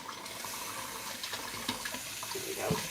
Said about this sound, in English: We're going to run some water in them, and we're going to clean the flour off of our hands